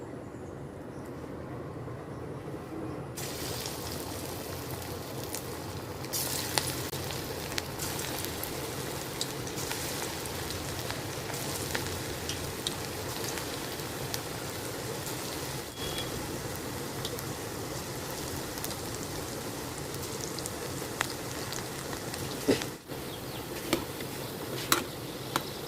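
Masoor dal pakoda batter fries in hot oil in a kadai, giving a continuous, fizzing sizzle with scattered crackles and pops, close and steady throughout without talk.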